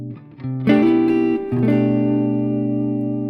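A single guitar chord strummed and left ringing, its notes sustaining clearly and slowly fading, with no voices.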